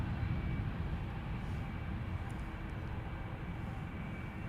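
A year-old Airbus A320neo departs Schiphol for Edinburgh, a steady, fairly faint jet rumble and hiss that stays level throughout, alone without speech.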